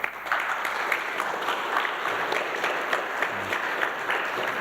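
Lecture audience at Politechnika Białostocka applauding Professor Karine Sargsyan: steady, dense clapping from a full hall, moderately loud and sustained throughout without pause.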